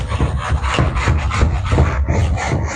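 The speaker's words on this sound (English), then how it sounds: "let's rub that out" Steady rasping scrub of a board eraser wiping writing off a whiteboard during an accounting lesson, continuous and close with rhythmic back-and-forth strokes and no talking.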